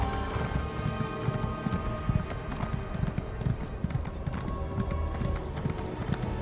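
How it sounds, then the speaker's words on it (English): Horse hooves clip-clop at a steady trotting rhythm in The Elder Scrolls Online, loud and close over a dense bed of game music, with a faint whinny in places. "Take my slow ass horse over there."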